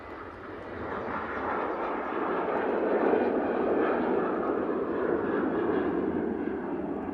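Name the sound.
Ryanair Boeing 737-8 jet on takeoff roll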